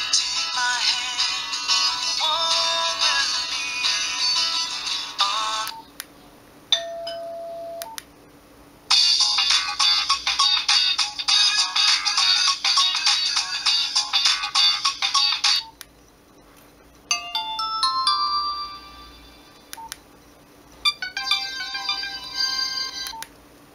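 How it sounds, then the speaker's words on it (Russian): Nokia 1616 phone playing a series of polyphonic ringtones one after another, bright beeping melodies in bursts separated by short pauses of near silence, heard close and clear. "Вот рингтоны формата AEC отличаются."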